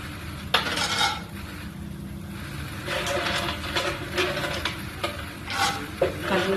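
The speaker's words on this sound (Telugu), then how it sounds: "ఆయిల్ వేసుకున్న తర్వాత దాంట్లో పల్లీలు వేసుకుంటాం." Peanuts frying in hot oil in a pan while being stirred, with a low continuous sizzle under repeated scraping and clinking strokes of a utensil against the pan, close and moderately loud, with no talking.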